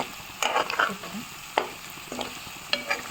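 Boiled potatoes frying in a pan as curry leaves go in, giving a low, steady sizzle broken by a few sharp stirring scrapes and crackles over about three seconds.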